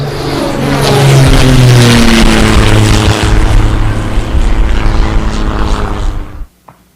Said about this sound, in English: This is Army bombing plane V-843 off Bayonne, New Jersey.